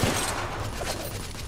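Rapid gunshots from a gun in the video game The Order: 1886: a brief, dense burst of firing, fairly loud and steady throughout the short moment.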